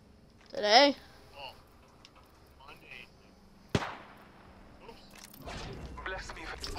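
Fireworks crackle and pop outside, with one sharp bang partway through, amid Apex Legends game sounds and a brief chirpy effect.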